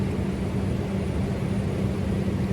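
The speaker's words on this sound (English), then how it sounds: "This old baddie we're flying in is a turbine otter plane, meaning she's single engine from the 1960s" A single-engine 1960s turbine Otter bush plane in flight gives a steady, loud cabin drone and rumble, an unbroken broadband roar heard from inside with no voices.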